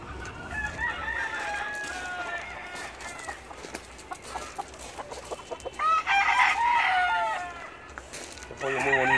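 Several roosters crow in turn with clucking between them, fairly close and loud, with a little background chatter.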